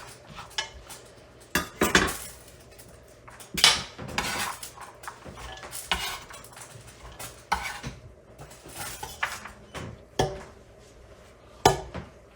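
Chopped vegetables for homemade soup dropped into a cooking pot in a home kitchen, with repeated clanks of pot and utensils and scattered clinks at an irregular pace, close and fairly quiet.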